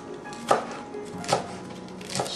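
A knife chops through a stack of fresh organic spinach leaves on a cutting board with three distinct, unhurried chops, close and clear.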